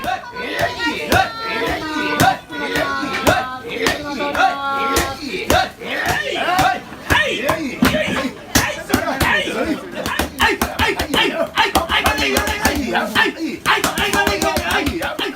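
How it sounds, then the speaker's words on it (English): Wooden mallets pound mochi at Nakatanidou in Nara, a fast run of sharp, loud slaps and thuds in quick rhythm, with a crowd's chatter and some laughter underneath. "One thing that is really cool to see out in Nara City is the mochi pounding at Nakata-ni-do"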